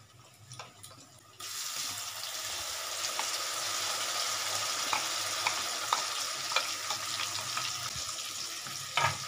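Onion paste and whole onions go into hot oil in a pan, a quiet moment suddenly giving way to a steady, close sizzle with small pops and crackles throughout.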